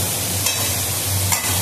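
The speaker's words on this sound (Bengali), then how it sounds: "এই শাকটা দেখো ভাজা হচ্ছে, পালং শাকটা একদম স্বাদের মতন ভাজা ভাজা হবে" Spinach fries in a pan after its water has cooked off, giving a steady, close sizzle with two brief scraping stirs.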